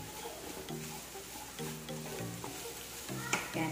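Onion sizzles in hot oil in a pan and is stirred, with capsicum, carrot and cabbage to follow; a steady, close frying hiss runs under soft scraping, with a faint voice in the background.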